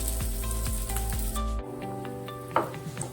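Pieces of dudhi (bottle gourd) muthiya hit hot oil tempered with mustard seeds, white sesame and curry leaves, setting off a close, steady sizzle with a brief scraping stir near the end.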